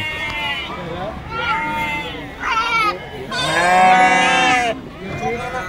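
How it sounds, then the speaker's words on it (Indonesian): Cattle mooing at a busy livestock market where sheep and cows are arriving, several long, loud moos one after another, with the biggest call near the middle, over background crowd noise and talk. "ini aktivitas kedatangan domba dan sapi di Pasar Wage Bumi Ayu."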